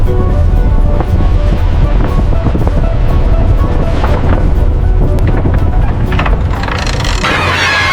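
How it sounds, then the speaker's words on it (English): Strong wind and heavy waves buffet the open deck of a fishing ship at sea, a loud, unbroken roar of gusts and crashing water filling the whole stretch. "standing close to the edge of the deck in the gusts of wind and high waves"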